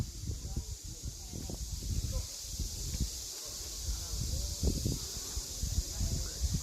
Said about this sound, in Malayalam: ഇവിടെ നല്ല ചീവീടിന്റെ ശബ്ദം കേക്കാട്ടോ.